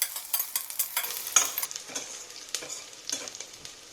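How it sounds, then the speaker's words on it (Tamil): Sliced onion sautéing in hot ghee with spices, with a steady sizzle and frying crackle under repeated stirring and scraping strokes, close and clear with no talking. "அதை போட்டுட்டு வதக்கி விட்டுறலாம்."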